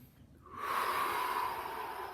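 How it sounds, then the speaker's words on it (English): A single deep breath drawn in close to the mic, rising from near silence into a long, steady breathy inhale that holds for over a second before playing begins. "Deep breath first."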